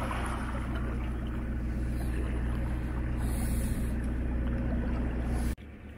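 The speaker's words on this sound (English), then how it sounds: "Engine chugging away nicely." Narrowboat diesel engine chugging steadily and close on a canal lock flight, a continuous low rhythmic thrum with wind, cutting briefly near the end.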